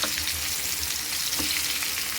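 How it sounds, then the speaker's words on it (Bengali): Potato pieces frying in leftover oil from frying katla fish, a dense steady sizzle heard up close, with a couple of faint stirring knocks and no voices. "যে তেলে আমি মাছ ভেজেছি ওই মাছের তেলে আমি এই আলুগুলো ভাজতেছি।"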